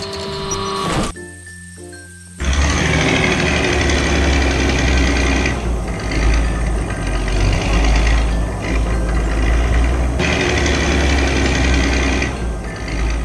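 A yellow heavy machine's engine runs steadily and loudly with a deep low rumble and clattering mechanical noise while working on a damaged road, after a brief quieter pause near the start.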